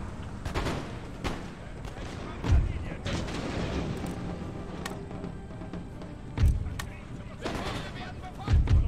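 Mortar and artillery fire in the battle game Empire: Total War, with several deep booms spaced a few seconds apart over crackling volleys and a busy battlefield din, while a voice talks over it.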